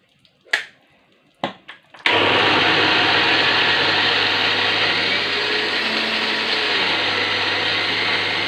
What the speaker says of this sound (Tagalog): I-blender na po natin.